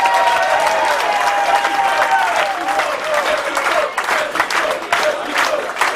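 Audience applause at a post-match event, loud sustained clapping with cheering voices and whistles rising through it.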